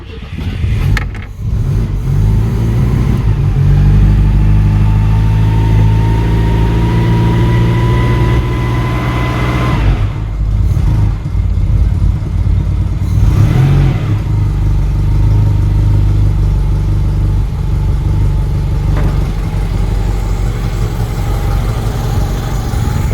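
A Citroën 2CV with a poorly working, over-choking choke runs and revs loudly and steadily, the engine note rising and dipping over about twenty seconds with brief drops in level, no voices.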